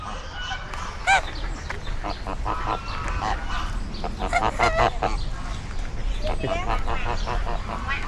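A flock of chickens in New Zealand clucks and squawks busily nearby, calls overlapping amid steady outdoor noise, with people talking now and then.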